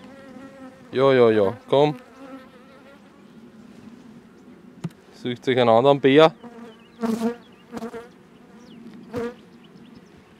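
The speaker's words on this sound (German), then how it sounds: "Nicht aufs Mikro, kleine Biene." Honey bee buzzing close to the microphone during a beehive inspection after a swarm left, in humid summer air; loud buzzing bursts come and go between quieter stretches, with someone speaking briefly at times.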